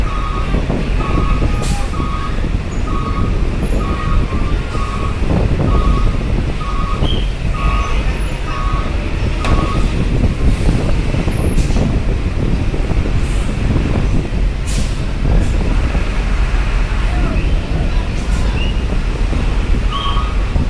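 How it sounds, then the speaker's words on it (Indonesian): Strong wind at Bakauheni harbour as a ferry struggles to dock, a loud constant roar buffeting the microphone, with repeated reversing beeps from a vehicle early on and scattered clanks in the background. "Kencang sekali anginnya"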